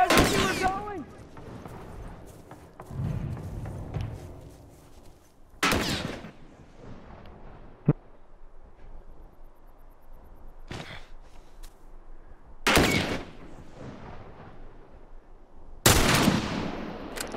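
Repeated gunfire in The Last of Us Remastered video game, loud sharp bursts ringing out about every few seconds with quieter game ambience and low rumbling between shots.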